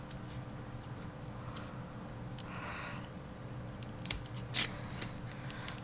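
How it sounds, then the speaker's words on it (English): Scissors snipping through folded paper to cut a snowflake, with a few quiet crisp cuts and then two sharper snips near the end. The cutting is close and soft over a low steady room hum. "Try not to cut too far."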